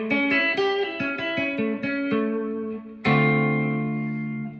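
Clean guitar playing a minor blues arpeggio lick, a sequence of picked notes ringing one after another, then a final chord struck loudly and left to sustain and decay.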